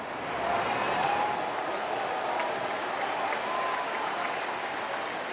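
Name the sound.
baseball crowd applauding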